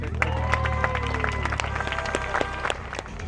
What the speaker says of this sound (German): Euer Applaus, Jungs.